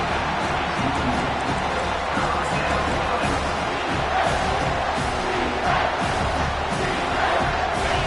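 A stadium crowd at a college football game between Miami and FSU roars and cheers in a dense, sustained wall of noise that stays loud throughout the stretch.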